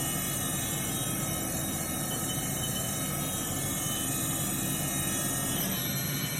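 Spindle of a 2011 Haas VF-3SSYT CNC machining center rated to 12K RPM, spinning with a steady loud whine and hum and a slight pitch shift near the end.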